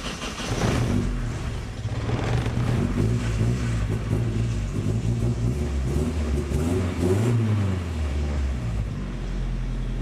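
A turbocharged Datsun 510 engine with new rubber motor mount bushings fires up and revs, a steady loud mid-pitched drone rising and falling in pitch with a few throttle swells throughout.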